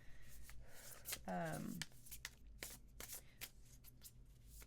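A Wild Unknown Tarot deck is shuffled by hand in a quiet room, giving a soft riffling burst with scattered card taps around it at close range.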